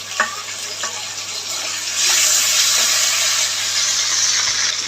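Ground spice paste hits a hot pan for a fish curry, giving a loud, steady sizzle that jumps in intensity about two seconds in. A few stirring scrapes sound over the continuous frying hiss, and nobody speaks.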